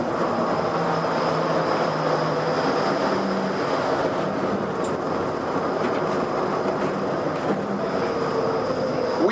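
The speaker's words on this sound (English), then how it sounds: "We are now arriving at Downtown Disney Station, gateway to the Downtown Disney District and the Disneyland Resort Hotels." A Disneyland ride train pulls into Downtown Disney Station, its steady rolling rumble and clatter loud and continuous, with a faint squeal above and no voices.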